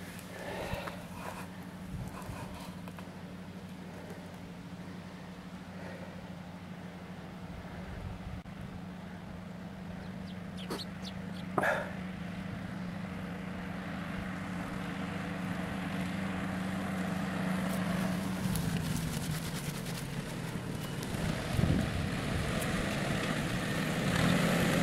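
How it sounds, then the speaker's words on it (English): A farm tractor with a scoop on the back runs at a steady low engine drone, getting gradually louder as it approaches, with a few brief knocks and clanks along the way. "Here he comes with a tractor."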